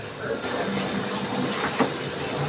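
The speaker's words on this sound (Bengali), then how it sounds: "আমি মশলার বাটি ধোয়া জলটা দিয়ে দিচ্ছি" Spice-bowl rinse water is poured into a cooking pan of fried spices for an okra and yogurt dish, giving a brief, close hiss and splash over a steady steamy background.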